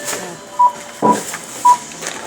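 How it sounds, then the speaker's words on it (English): Card terminal keypad at a store checkout, three short beeps spaced about half a second apart as a phone number is entered, with faint background murmur. "I'm going to put my phone number in."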